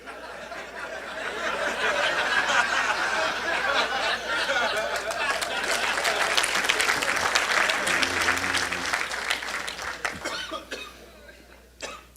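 An audience at a lecture breaks into sustained applause, dense and loud for several seconds, with scattered coughs, chuckles and murmured chatter mixed in before it thins out and fades.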